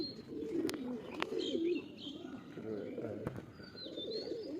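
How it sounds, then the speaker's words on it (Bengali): A female tournament pigeon in a loft coos softly in repeated low rolling phrases, with a few higher chirps and faint voices in the background. "এই হচ্ছে পায়রা মাদি"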